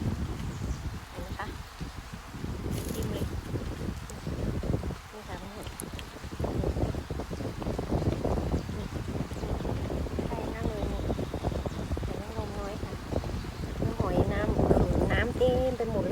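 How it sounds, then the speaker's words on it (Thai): Steady wind buffeting the microphone outdoors near water, with someone talking over it throughout. "ลมก็จะแรงหน่อยด้วยค่ะวันนี้"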